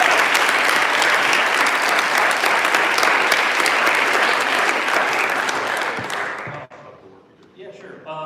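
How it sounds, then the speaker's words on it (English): Audience applause for the speakers at a Yale Students for Bernie campus event, loud and dense, sustained for several seconds before thinning out and fading near the end. "another round of applause for our speakers."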